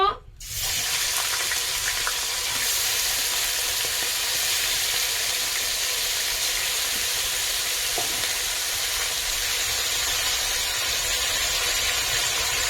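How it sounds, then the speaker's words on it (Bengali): Chicken meat frying in hot oil, a loud, steady, even sizzle that starts after a brief thump and runs unbroken throughout. "মাংসটা একটু ভেজে নেব"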